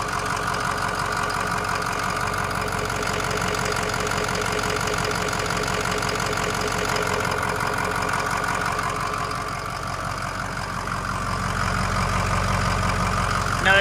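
Studded, bulletproofed 6.0L Powerstroke diesel in a 2007 Ford F-250 4WD Lariat with 164k miles, idling with a steady, rattly clatter and even rhythm. It is heard close up and continuously throughout.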